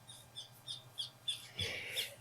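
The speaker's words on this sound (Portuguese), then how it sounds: "ó, passarinho" A small bird chirps outdoors in a faint, evenly spaced series of about six short high tweets, followed by a slightly louder rustle, with no voices.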